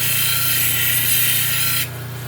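A gray shell piece is ground against a rotary wheel while being shaped into a pendant, giving a steady, close, gritty grinding whine under a constant motor hum that cuts off sharply near the end, leaving only the hum.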